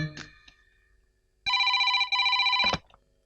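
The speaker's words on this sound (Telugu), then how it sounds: "ఇలా ఫోన్ రీడైల్ చేసావంటే" A telephone rings after a redial, a loud electronic ring repeated in two close bursts following a brief faint beep, with no talk.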